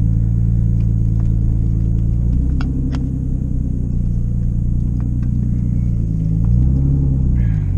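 A Nissan R32 Skyline idles steadily in a garage, its deep low rumble continuous and close throughout, with small shifts in pitch as the engine settles and briefly rises near the end.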